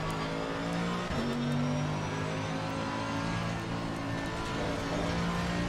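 A heavy GT3 race car carrying a full fuel load drones steadily in Assetto Corsa Competizione, the engine's sustained loud tone shifting pitch through gear changes, continuous and close with no talk.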